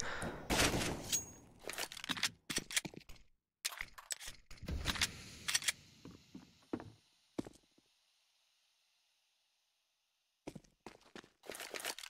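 Pistol shots crack in scattered volleys during a competitive Counter-Strike match on the Overpass map, mixed with footsteps and clatter, then a long quiet stretch before a few more sharp reports.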